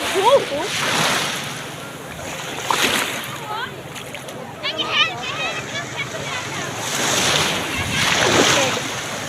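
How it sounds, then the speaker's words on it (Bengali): Sea waves rolling in and breaking on the beach at Cox's Bazar, with broad washes of surf swelling and fading under wind, while people talk and shout nearby. "অনেক বড় ঢেউ এসেছিল"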